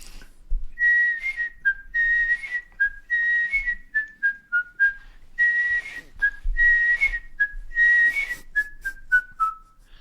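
A lone person whistles the bright, bouncy theme tune of the sitcom The Liver Birds in clear, clean phrases, the notes rising and sliding, with short pauses between phrases.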